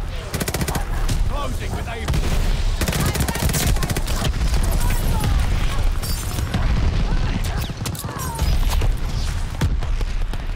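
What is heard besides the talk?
gunfire in video game Call of Duty Vanguard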